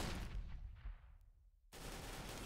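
Gunfire from a Counter-Strike match on the Inferno map: dense, close shots at the start, then a lull, followed by another burst of firing near the end.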